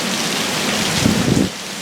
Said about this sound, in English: So you can see the rain coming off the roof here.